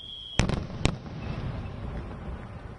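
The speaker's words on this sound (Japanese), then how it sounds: "今屋上に上がって花火見てます" Fireworks go off over Fukushima on the tenth anniversary of the nuclear disaster, heard from a museum rooftop: two sharp cracking bursts a half second apart, then a low rumbling crackle that lingers.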